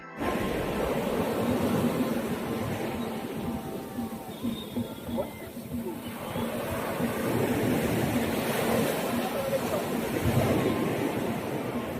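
Ocean waves breaking at a beach make a steady, broadband surf roar with wind noise across the whole stretch, fairly loud and continuous with gentle swells in level.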